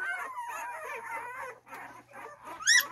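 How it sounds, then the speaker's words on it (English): Two-week-old puppies whimper and yip up close in a continuous string of soft, high cries, ending in a sharper squeal. "These are two-week-old pups."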